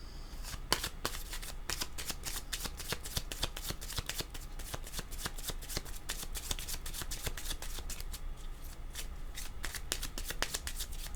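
A deck of oracle cards is shuffled by hand, close and continuous. Quick crisp riffles and slaps repeat in a rapid, fairly even rhythm for over ten seconds, with no voice.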